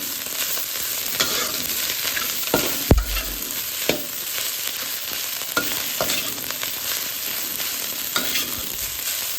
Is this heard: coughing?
no